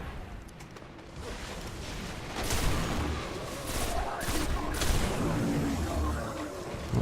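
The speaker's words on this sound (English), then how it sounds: "So many explosions!" Dense barrage of gunfire and explosions in the video game Destiny: The Taken King, continuous crackling shots and booming blasts layered together with no pause, loud and chaotic throughout.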